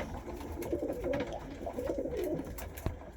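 A pigeon coos in a garden loft, a soft repeated burbling call rising and falling several times at close range, with faint background rustling and no talking.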